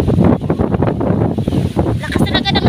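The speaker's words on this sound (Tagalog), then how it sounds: "Lakas talaga ng hangin." Strong wind buffets and roars across the microphone continuously, loud and gusty, with a voice faintly talking underneath.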